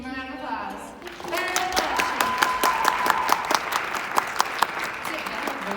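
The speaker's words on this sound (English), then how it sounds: "Give them a round of applause." An audience claps after a school performance, with scattered claps that swell into steady applause. A voice speaks at the start, and another sings a sustained note midway through the clapping.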